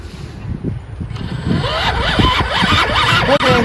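A WindRider RC plane's electric motor runs at half throttle, a buzzing whine that rises in pitch and stays loud and close.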